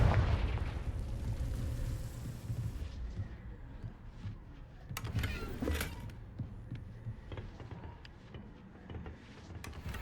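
A Confringo explosive spell blast in a Hogwarts game, a loud booming burst at the start that rumbles and fades, followed by scattered crackling impacts and debris.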